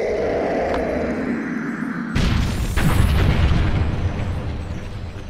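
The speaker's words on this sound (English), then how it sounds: "Bomb, bomb, bomb." Bomb blasts in Super Mario Galaxy 2: a sharp, loud explosion bursts out after a rising buildup, followed by a second boom and a rumbling tail that fades slowly.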